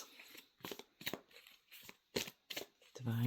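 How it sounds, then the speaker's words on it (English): A deck of oracle map cards is shuffled, producing several soft, papery riffling bursts in an uneven rhythm, quiet and close with no talking. "I'll just shuffle the map cards."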